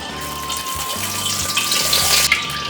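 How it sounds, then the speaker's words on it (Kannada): Oil being poured into a pan to fry masala for chicken sukka, a close, continuous liquid gush with a faint steady hum underneath, ending in a brief splash. "ಮೊದಲಿಗೆ ಸ್ವಲ್ಪ ಆಯಿಲ್ ಹಾಕೋದು"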